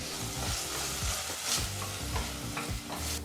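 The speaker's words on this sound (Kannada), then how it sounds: "ಟೊಮೊಟೊ ಹಣ್ಣನ್ನು ಚೆನ್ನಾಗಿ ಬೆಂದು ಮೃದುವಾಗುವವರೆಗೂ ಫ್ರೈ ಮಾಡ್ಕೋಬೇಕಾಗತ್ತೆ" Finely chopped tomato frying with onions in a pan for a gravy, a continuous soft sizzle broken by repeated scraping strokes of a stirring spoon, close and alone with no talk.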